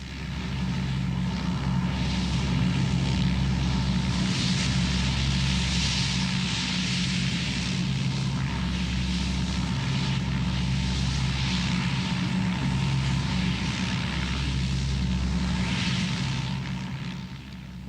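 A propeller-driven rescue plane runs its engine steadily during a wartime evacuation of foreign nationals in the 1971 India-Pakistan war, giving a loud, continuous droning roar with a low throbbing beat that holds for the whole stretch.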